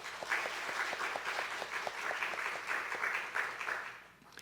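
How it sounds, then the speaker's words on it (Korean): A church congregation claps after a special song at a Korean worship service, with fairly soft, steady applause and distinct rhythmic claps that run on evenly before tapering off at the end. "우리 그들을 격려하는 마음으로 박수 한번 하겠습니다."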